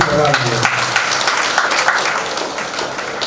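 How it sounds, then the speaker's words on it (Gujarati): Applause for a women's devotional group at a Tulsi puja gathering in Dwarka, Gujarat: a crowd claps in a dense, continuous patter after a brief voice at the start, fairly loud and close. "આપણે ગોપી મંડળને તાળીઓના ગડગડાટથી કરાવીએ."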